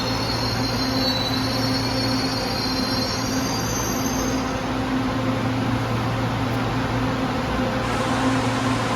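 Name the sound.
LRT light rail train running on the tracks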